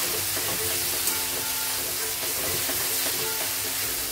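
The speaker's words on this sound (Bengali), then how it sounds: "তো এইটা এখন একটু নাড়াচাড়া করে দেবো।" Noodle masala stirred in a pan over a high gas flame, a steady close sizzle with scraping strokes of the spoon throughout, no voices.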